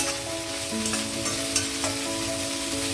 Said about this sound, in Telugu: ఇదిగో క్యాప్సికమ్ వేసేస్తున్నాను. పచ్చిమిర్చి, కరివేపాకు వేసాను.